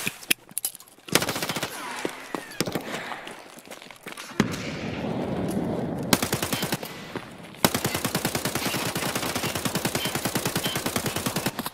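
Automatic gunfire in the video game Escape From Tarkov rattles in loud, rapid bursts, with a long sustained volley toward the end and brief pauses between strings of shots.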